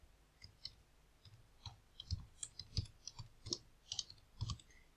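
Light, scattered clicks of typing on a computer keyboard, close but faint, in an irregular run of individual keystrokes with no talking over them.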